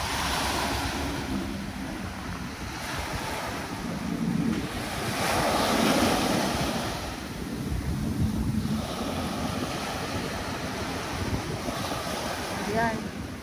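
Waves rolling in at high tide on the Manila Bay shoreline near Dolomite Beach, a continuous surf wash swelling and fading in slow surges, mixed with wind buffeting the microphone.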